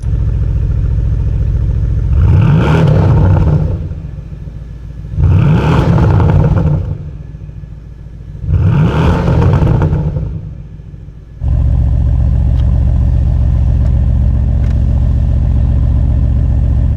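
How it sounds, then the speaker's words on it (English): A Porsche Panamera Turbo E-Hybrid engine turns over in three bursts of cranking, then catches and settles into a steady, loud idle. "let's start the car up, see what it sounds like"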